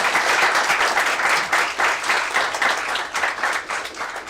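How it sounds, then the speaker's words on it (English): Sustained applause from a workshop audience after a presentation, dense steady clapping that fills the room and tapers slightly toward the end. "I would implore everyone to applaud Tarvi once again"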